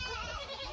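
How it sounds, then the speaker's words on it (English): A farm goat lets out one close, loud, wavering bleat right after milking as the goats are turned out to browse and graze. "That's a good goat."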